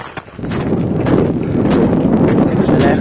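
Strong wind buffets the microphone near the summit of Kumara Parvatha mountain, a loud, continuous roaring rumble throughout.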